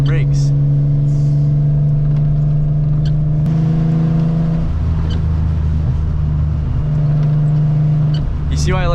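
A rear-wheel drive car drifts through a hurricane with a loud, steady engine drone and shifting revs, heard close from inside the cabin as a constant heavy hum.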